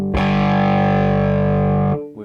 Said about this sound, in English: we've got a nice amount of distortion here.